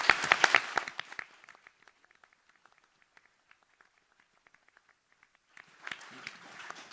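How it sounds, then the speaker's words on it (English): An audience at a political conference debate on a just transition to net zero applauds after a presentation. A burst of clapping opens and quickly thins to scattered claps, then a fresh round of applause swells near the end. "Please join me in applauding Angela for her presentation."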